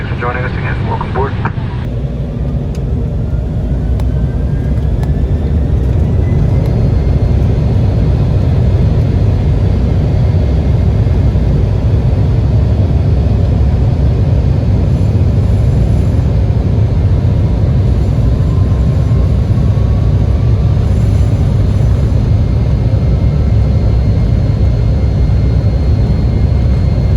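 Steady, loud roar of a JetBlue Embraer E190 airliner cabin in flight, a constant broadband engine and air rush filling the whole stretch without letup.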